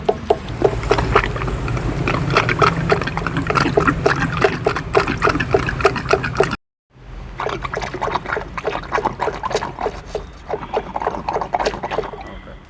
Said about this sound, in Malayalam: ഇതാ ഇങ്ങനെ കുത്തി കൊടുത്തു കഴിഞ്ഞാൽ മോട്ടർ തനിയെ വെള്ളം സക്ക് ചെയ്ത് ഫില്ലാവും